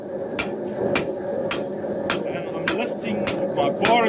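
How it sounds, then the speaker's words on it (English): Hammer blows forging the tip of a steel bar into a herb cutter, heard as sharp ringing metallic strikes at a steady pace of roughly one every half second, quickening near the end, close and clear over a constant forge roar. "focusing my blows to the tip, forging that out, flattening out my metal"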